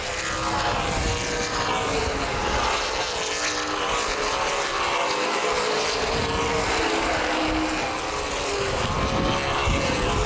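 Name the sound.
stock cars racing around an asphalt speedway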